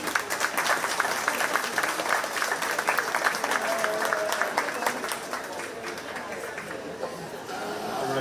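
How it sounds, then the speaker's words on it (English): Applause from an audience in a show ring at the Shelby County Fair 4-H sheep and goat judging, steady clapping mixed with crowd chatter for about eight seconds, fading slightly near the end. "Let's give all these kids a big round of applause."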